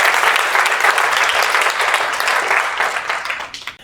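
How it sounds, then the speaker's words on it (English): An audience at a communication talk gives a round of applause, loud dense clapping that holds steady, then thins and fades out toward the end. "Give Ferris a round of applause, by the way."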